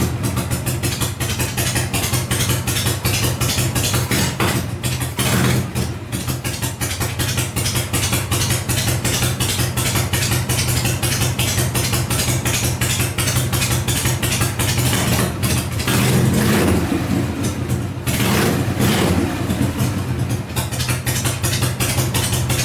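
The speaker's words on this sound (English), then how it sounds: "snapping the throttle, seeing how it responds, backing the adjuster off to give it more pump shot" A Harley-Davidson Shovelhead motorcycle engine runs close up with a steady, loud, throbbing idle, and the throttle is snapped into brief revs partway through. No one talks.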